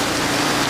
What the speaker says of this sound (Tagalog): Ayan so sobrang ulan na.